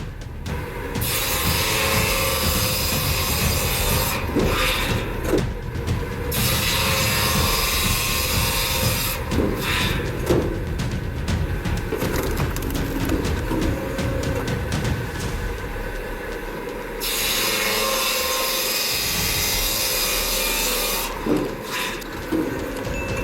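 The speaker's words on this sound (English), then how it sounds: "This multifunctional firewood processing system can handle logs up to approximately 5 meters long, combining sawing and splitting operations into one continuous process" A multifunctional firewood processor sawing and splitting logs up to about five meters long, a continuous loud mechanical grinding and whine with hydraulic surges and brief pauses, steady and close throughout.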